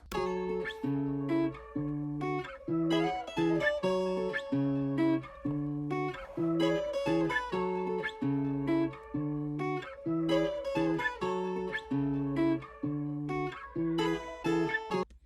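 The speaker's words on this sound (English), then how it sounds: "so all I really did to his loop was pitch it up right here" A looping, pitched-up melodic bass pattern with a repeating rhythmic beat, bright harmonic tones cycling steadily without any voices.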